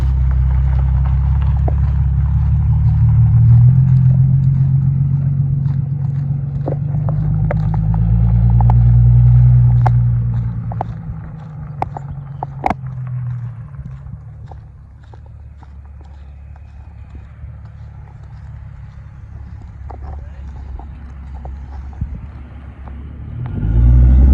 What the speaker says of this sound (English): The car is quite loud. I can hear it from all the way right here.